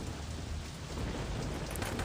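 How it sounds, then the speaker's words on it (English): Rain falls steadily with a deep thunder rumble underneath in the Saint's Row video game, a dense, even patter that stays loud and unbroken. "I actually really like the rain and thunder sounds in this game."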